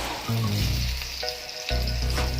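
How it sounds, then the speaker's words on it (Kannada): Onion and cabbage bajji frying in oil, a close, continuous sizzle with bursts of bubbling and faint clinks from a utensil. "ಈಗ ಕೊನೆಯಲ್ಲಿ ಸ್ವಲ್ಪ ಹೊದಿಟ್ಟು ಅದನ್ನು ಫ್ರೈ ಮಾಡ್ತಾಯಿದ್ದೀನಿ"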